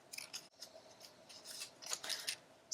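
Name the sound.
scissors cutting egg carton feathers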